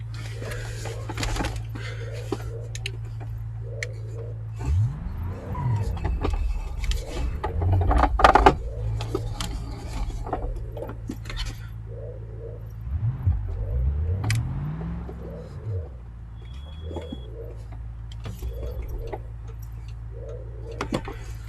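Car engine in the BeamNG.drive driving game, droning steadily with rising and falling revs as it accelerates and shifts, plus scattered ticking clicks over the whole drive.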